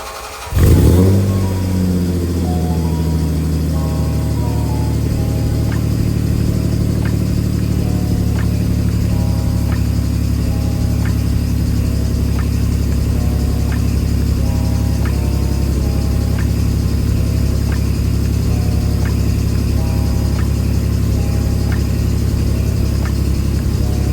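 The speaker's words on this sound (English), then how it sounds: "Got a lot of pulley noise coming from the alternator." A Toyota Solara engine cranks and fires, then settles into a steady loud idle with a rhythmic ticking and whirring from a noisy alternator pulley running throughout.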